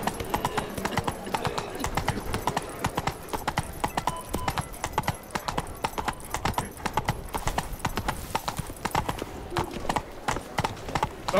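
Horse hooves galloping in The Witcher 3, a fast steady clip-clop rhythm running throughout with an occasional neigh, over game music and ambience.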